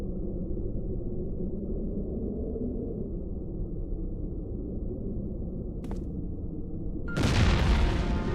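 In the video game Broken Sword 4, a bomb goes off with a single sudden, loud boom near the end, following a stretch of steady low ambient hum and a brief click.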